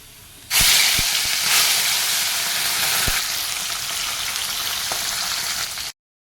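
Food frying in a hot pan in a home kitchen, a loud, steady hissing sizzle that starts abruptly, with a few sharp clicks of a utensil, then cuts off suddenly.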